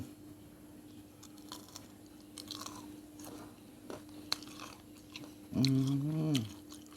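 Someone chews tamarind and sour fruit close up with soft, irregular crunches and wet bites, then gives a brief hummed vocal sound near the end.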